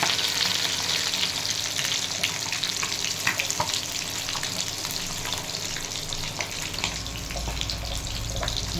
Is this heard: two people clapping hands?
no